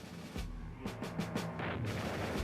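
A huge wartime detonation of a tunnel packed with 27 tonnes of explosives under German trenches sounds as a deep roaring blast with repeated heavy booming bursts rolling over a dense rumble throughout.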